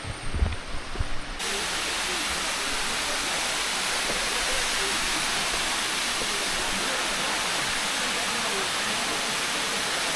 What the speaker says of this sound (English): Looks like we're arriving at the first waterfall now. You can certainly hear it.